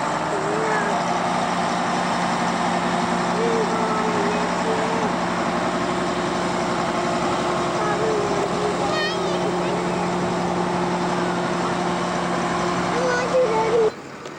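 A grandpa's tractor engine idles steadily throughout, a constant low droning rumble with a tonal hum, close and even in level, while voices talk faintly over it until it cuts off at the end.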